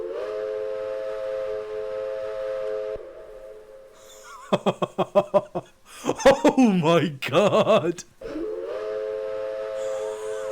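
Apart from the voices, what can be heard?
American steam locomotive whistle, Flying Scotsman in Train Simulator video game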